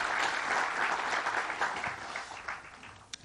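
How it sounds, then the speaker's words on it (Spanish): Audience applause at a Mexican government event for a highway modernization, a broad crowd clapping that swells early, then gradually thins and fades with a few scattered claps at the end. "Un aplauso para nuestro visitante distinguido."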